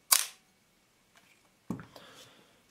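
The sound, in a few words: Canon F-1 camera shutter firing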